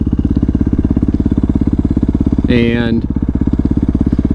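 A Yamaha WR450F supermoto idles with a loud, close, rapid single-cylinder thump, briefly blipped higher for half a second, while someone talks over it.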